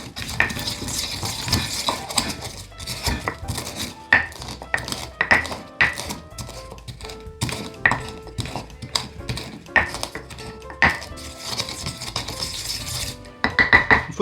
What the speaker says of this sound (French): Et avec un pilon et un mortier, on va venir écraser ça pour en faire, pour le moudre en fait.